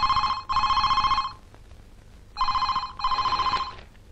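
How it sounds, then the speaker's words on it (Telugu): Telephone bell ringing in a Telugu comedy film scene, two loud bursts of electronic ring, then a pause and two more, alone with no talk over it. "ఆ ఫోన్ తీరా"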